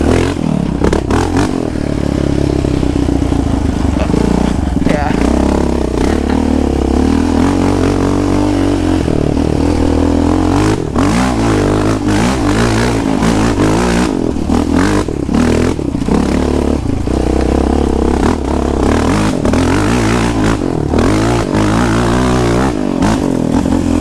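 Yamaha Raptor 700 ATV engine revs loudly and continuously, rising and falling as the throttle is blipped on and off, with clattering and scraping from the quad over the ground throughout.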